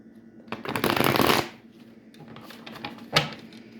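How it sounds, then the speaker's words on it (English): Cards riffled and shuffled in a quick burst, loud and close, followed by softer handling and one more sharp snap of cards near the end. "I'm going to give it a quick shuffle."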